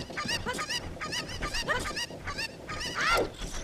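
A chicken (cucco) in the video game Ocarina of Time gives a run of repeated clucking, squawking calls at close range with steady game ambience, ending in a sharper rising squawk.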